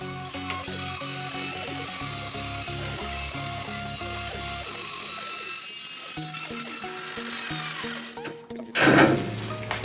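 An electric saw whines steadily through a tree stump for several seconds, then a louder grinding burst near the end as the cut finishes.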